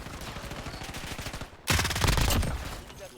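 Rapid gunfire in the Warzone video game breaks out about halfway through, a loud dense burst of shots with a sharp onset over a steady game background, then tapering off.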